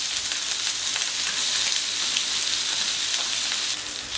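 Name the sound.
snow peas sizzling on a hot plancha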